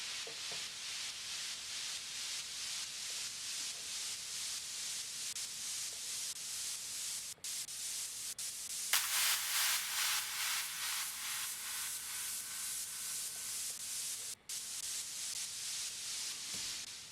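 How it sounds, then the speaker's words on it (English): Filtered white noise from the SynthMaster synthesizer, its two sub oscillators panned hard left and hard right, hisses steadily in a soft, airy wash that sweeps and pulses with repeated small dips and a brighter surge midway. "I set both of the sub oscillators to white noise and I panned one hard left and one hard right."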